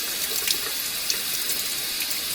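Cold tap water runs steadily over fingers rubbed against a stainless steel spoon, a close, continuous hiss with faint splashes and no talk.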